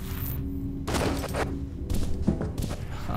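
An automatic combat shotgun fires in the first-person shooter F.E.A.R., heard as loud, heavy blasts in bursts. Dense game noise and other gunfire fill the gaps between them.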